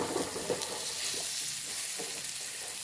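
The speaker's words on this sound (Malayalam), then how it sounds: "ഈ വെളിച്ചെണ്ണയിലേക്ക് തന്നെ ഇട്ട് കൊടുക്കാം കേട്ടോ. ഒന്ന് ഇളക്കി കൊടുത്തേ." Breadfruit pieces being stirred in hot coconut oil, with a steady sizzle of frying and scraping from the stirring, close and continuous.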